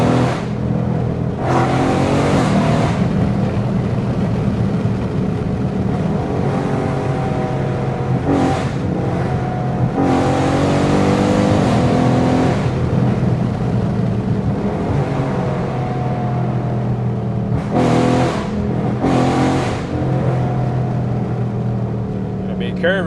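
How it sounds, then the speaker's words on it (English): Catless, tuned Dodge Scat Pack roaring under acceleration on a curvy hill road, a loud rasping exhaust that rises and falls through several pulls and gear changes, close and continuous. "I give y'all boys some exhaust."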